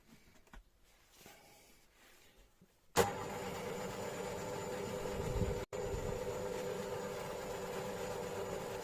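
An electric mixer mixing flour at low speed switches on abruptly after quiet, then runs as a steady, fairly loud motor drone with one brief cut-out before resuming.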